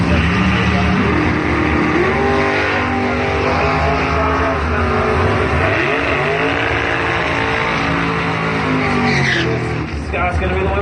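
Small block Chevy drag cars, including a 1969 Camaro, roaring down the strip at a drag race, a loud sustained engine howl with rising and falling pitch sweeps throughout, close and dominant with a voice faintly mixed in.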